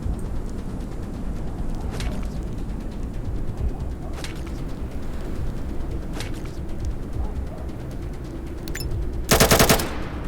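Gunfire in the ATOM RPG: Trudograd video game comes as a few sharp shots spaced seconds apart over a rumbling, noisy background, ending in a brief loud burst of rapid fire.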